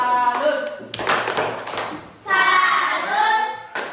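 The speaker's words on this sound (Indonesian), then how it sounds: "Beri tepuk tangan dulu teman kita ya." A classroom of students claps for a classmate in bursts of rhythmic group clapping, with voices chanting and speaking in between and over the claps.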